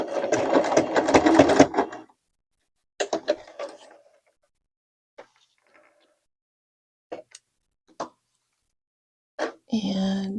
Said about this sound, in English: there are things that I did to my sewing machine. I am using a leather needle.